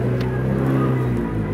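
Rock crawler engine driving up a competition course, a steady close, loud low rumble with slight revving swells throughout.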